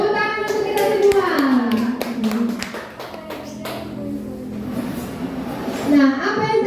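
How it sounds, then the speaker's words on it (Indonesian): A group claps hands together in a brief scattered burst, mixed with children's and adults' voices talking over it. "Tepuk tangan untuk kita semua."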